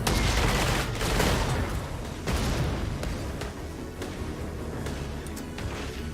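Gunshots and booming blasts in the tactics game Valkyria Chronicles 4, a loud cluster of shots and explosions up front, then scattered sharper cracks spaced out over a rumbling background.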